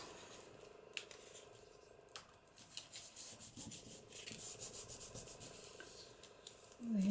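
Bone folder rubbing glued paper flat on a junk journal page, a quiet scraping and rubbing that comes in short strokes, growing into a faster run of rhythmic strokes near the end, close and soft.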